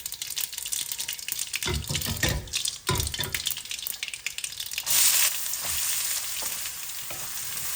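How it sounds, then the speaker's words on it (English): Mustard seeds and dried red chilies crackle and sizzle steadily in hot oil for a fish curry, with loud bursts of popping and spattering, a stir or two, and a brief watery hiss partway through. "A teaspoon of mustard seeds go in. Let them pop. Then I'm going to add 4 dried red chilies."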